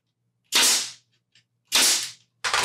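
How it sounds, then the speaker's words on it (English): A 2-inch pneumatic nail gun fires into a wooden canvas stretcher frame: two loud, sharp bangs about a second apart, then a third shot cut off at the end, with a faint compressor hum between. "My nail gun is 2 inches."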